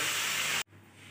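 Water poured into a hot pan of spiced rohu fish curry with potato and cauliflower bursts into a loud, close hiss of steam that cuts off sharply, leaving a quieter simmering hiss.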